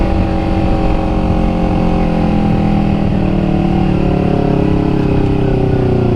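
A 250cc motorcycle engine drones loudly and continuously while being ridden, holding a steady, slowly rising pitch with no break throughout.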